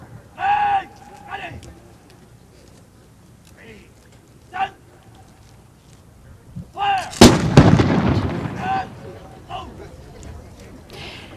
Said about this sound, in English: The troops will now fire a volley of blank cartridges.